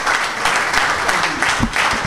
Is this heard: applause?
yes